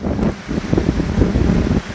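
Strong, gusting cold wind buffeting the microphone outdoors, a loud, rough rumble that surges and eases in uneven waves with no voices.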